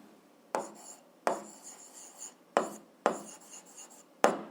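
A pen writing a math solution on paper, close scratchy strokes arriving in about five separate bursts of rubbing and tapping, with no speech.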